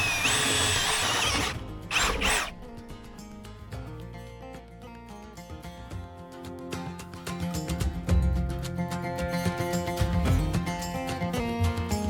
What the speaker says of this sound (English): I have to drill a hole right on the side